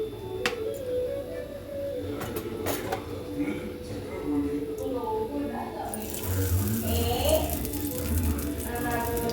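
Vanjaram fish frying in groundnut oil on a hot dosa tawa, a steady sizzle and crackle that swells louder in the latter half, with a person talking over it.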